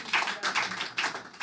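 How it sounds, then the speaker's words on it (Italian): Brief, faint clapping from a small audience at a poetry reading, a few soft bursts of hand claps in quick succession. "Le fate ancora un applauso"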